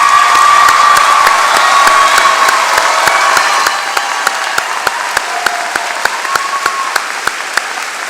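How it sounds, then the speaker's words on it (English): Commencement audience at a summer graduation ceremony applauds first-generation graduates: sustained, dense clapping with scattered cheers and whoops, loud and steady throughout, easing slightly partway through. "please stand and be recognized with a well-deserved round of applause"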